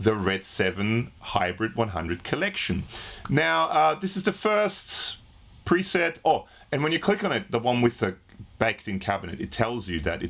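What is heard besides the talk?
No everyday noises stand out.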